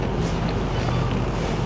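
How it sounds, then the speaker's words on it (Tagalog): Wind blowing outside, a steady broadband rush with low buffeting against the microphone, loud and continuous with no voices. "Yung hangin sa labas."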